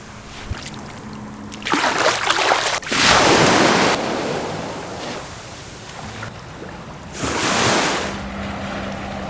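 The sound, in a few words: ocean waves at the sea in Puerto Vallarta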